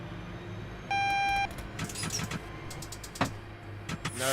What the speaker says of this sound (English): Buzzer will go off here in a second.